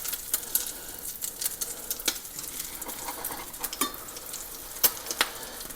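A Monte Cristo sandwich fries in a heavily buttered pan, sizzling and crackling without a break while a utensil scrapes and taps the pan in scattered sharp clicks.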